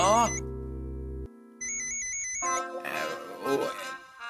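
A mobile phone rings briefly with a repeating electronic ringtone between bursts of talk in a Marathi TV drama scene.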